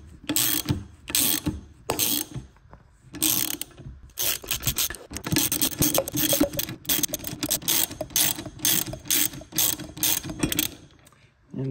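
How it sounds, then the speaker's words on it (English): A hand ratchet tightens a bushing puller on the rear suspension of a Lotus Elise S1, giving quick repeated clicking strokes in loud bursts with short pauses, close up and alone. "just keep tightening it until it disconnects, and then you can pull it all the way through"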